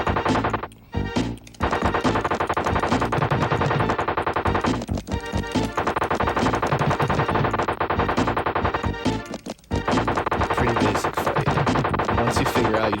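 Sustained rapid boss gunfire from the Bart's Nightmare video game, a dense, loud, continuous barrage of shots with brief gaps, layered over game music.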